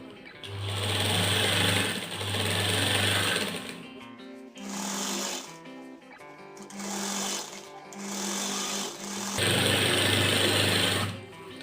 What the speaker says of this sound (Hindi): मिला करके हम इसे इस तरीके से सिलाई लगा दें।